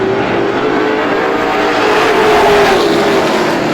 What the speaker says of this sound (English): 3 automobiles down the backstretch